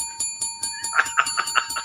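A bell rings repeatedly on a live show, a rapid series of about nine bright metallic strikes, evenly spaced and growing slightly louder toward the end, with no voices over it.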